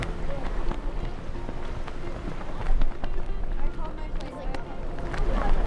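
Gusty wind buffets the microphone with low rumbling bursts on the Great Lakes, mixed with splashing water and muffled background voices.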